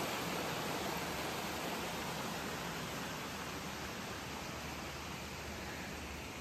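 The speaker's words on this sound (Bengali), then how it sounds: "এই যে এখানে এই একটা লেকের জলটা এখান দিয়ে ধাপে ধাপে গিয়ে ওয়াটারফল হয়ে নেমে গেছে আরেকটা লেকে" Water tumbles in steps between lakes at Plitvice Lakes National Park, a dense, steady broadband rush of a waterfall heard without pause and with no voices.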